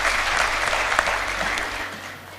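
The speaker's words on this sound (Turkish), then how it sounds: "Hocamızın bu değerli bilgisi için ben alkış istiyorum kendisine" An audience at a live cultural workshop in Antalya bursts into dense, sustained applause that fades slightly toward the end.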